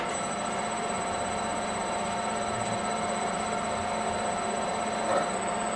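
A Grizzly G0752 10x22 variable-speed lathe running at a slow 150 RPM, a faint steady electric hum with a constant high whine and no other sounds.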